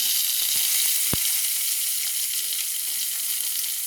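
Potato pieces frying in hot oil in a pan, a steady loud sizzle that runs alone from start to finish, with one brief clink near the start.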